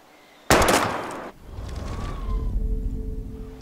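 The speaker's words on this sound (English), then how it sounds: "We're gonna shoot all these bottles without wasting a single bullet." A single loud gunshot cracks out as a bottle is shot in the Life is Strange video game, its sharp blast decaying quickly into background game ambience and a soft tone.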